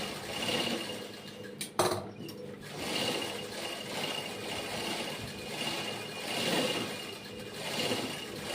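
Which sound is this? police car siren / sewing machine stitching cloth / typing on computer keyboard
sewing machine stitching cloth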